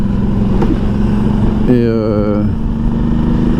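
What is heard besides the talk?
motorcycle riding up a mountain road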